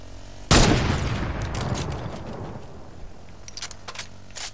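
Gunfire in a video game opens with one loud, sharp blast followed by a long echoing tail, and a few fainter clicks and rattles come later with no voices heard.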